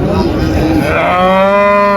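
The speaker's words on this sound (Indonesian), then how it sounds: "Ini super-super sapi di pasar Muntilan." Cattle at the Muntilan cattle market, where Simmental and Limousin breeds dominate, give a loud, close, drawn-out moo that swells midway and holds to the end, over a busy market background.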